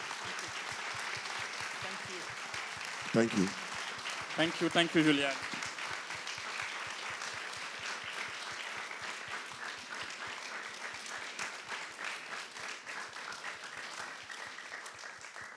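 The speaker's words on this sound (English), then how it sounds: "Let's give a round of applause." An audience at a literary talk on new African literature breaks into sustained applause that lasts throughout, with a speaker's voice briefly heard over the clapping near the start.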